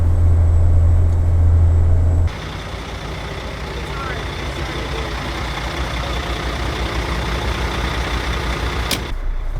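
A fire-fighting tanker truck in Ketchikan rumbles along with a steady engine drone and road noise. A louder low hum cuts off after a couple of seconds and a brief click comes near the end.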